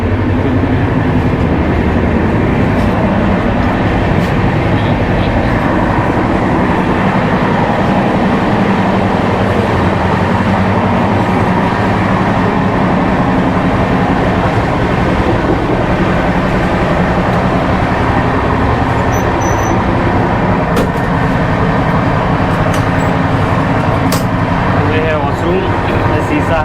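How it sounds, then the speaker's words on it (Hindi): A superfast train running nonstop from New Delhi to Mathura, heard from inside the carriage as a steady, loud rumble and rattle of wheels on track throughout, with a voice talking over it. "स्टॉप इस ट्रेन का सिर्फ मथुरा, बीच में कहीं नहीं रुकती है, सुपरफास्ट है"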